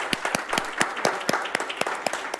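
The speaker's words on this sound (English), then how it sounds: "everybody give Denise a wonderful round of applause" A small church audience claps for a staff member, the individual claps sharp and distinct in a loose, fairly quick rhythm, close and moderately loud for a couple of seconds.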